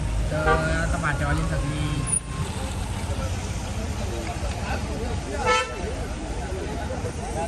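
Vehicles stuck in a traffic jam during a rally honk their horns in short toots over a constant rumble of engines, with voices faintly mixed into the busy street noise.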